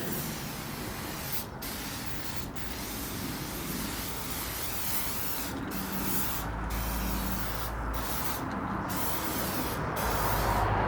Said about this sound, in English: So we're just going to spray it along the edges.